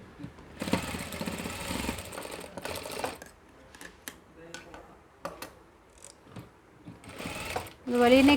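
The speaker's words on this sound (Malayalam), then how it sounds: "നീറ്റായിട്ട് സ്റ്റിച്ച് ചെയ്യാൻ നോക്കാം." A sewing machine runs close by while stitching a frock nighty, its steady mechanical whir coming in a long opening burst, then stopping and starting again with ticks and clicks in between, while someone speaks over the pauses.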